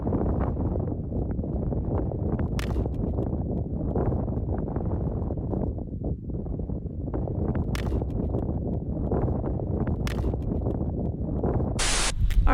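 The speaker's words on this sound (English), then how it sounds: "It's so windy" Strong wind buffets a microphone at night in an Australian outback cemetery in a continuous roaring rush, loud and unbroken, with no voices.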